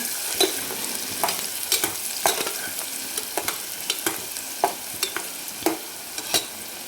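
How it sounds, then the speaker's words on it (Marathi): Chopped onion frying in hot oil in a pan, a steady close sizzle punctuated by regular sharp scrapes and clatters of stirring, with no talk. "तो कांदा टाकून घेऊ आणि छान तेलामध्ये याला परतून घ्यायचं आहे आपल्याला खमंग"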